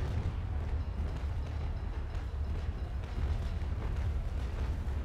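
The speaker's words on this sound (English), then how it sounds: "Oh, explosion!" A deep, sustained rumbling blast from a video game during a port defense battle on a PvE server, heavy low-end roar holding steady for several seconds, loud and continuous with no voices.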